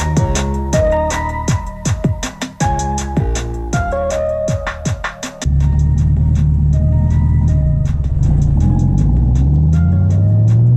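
A Chevrolet Camaro's engine settles into a deep, steady, close rumble in the second half, following a stretch of quick tonal chirps and clatter at the start.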